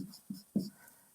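Handwriting while solving a trigonometry problem: three quick, close pen-on-paper strokes in about a second, the last the strongest, then a faint trailing scratch.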